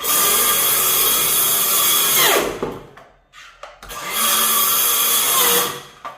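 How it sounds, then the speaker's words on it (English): A power saw blade plunges into a wooden floorboard, a loud close whine that bites in and drops, goes quiet with a few clunks, then roars again in a second sustained cut. "What I'm going to do is get my blade going, and I'm going to literally, like a plunge cut, introduce it to the floor."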